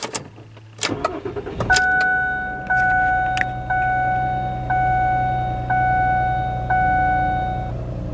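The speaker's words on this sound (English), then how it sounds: "let's start the car and see what we get" A 2009 Ford Fusion cranks and fires up, a short starter whir catching into a loud, steady idle, followed by a regular series of chimes from the dash repeating about once a second.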